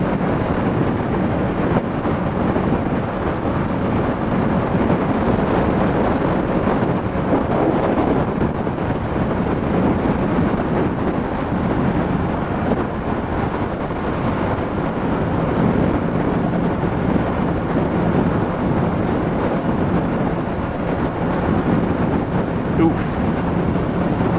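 Steady wind rushes and buffets the microphone on a bridge throughout, a constant loud low roar with no pauses or distinct voices.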